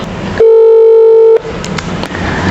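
A single steady electronic ringback tone sounds on a phone call placed to a random number, one long loud beep lasting about a second against a quiet line, followed by faint background noise.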